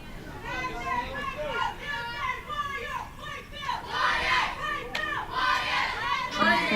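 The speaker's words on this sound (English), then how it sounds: "The Warriors are making a lot of noise from the bench." A softball team's bench cheering and shouting at a high school tournament game, lively overlapping voices rising and falling, growing louder toward the end.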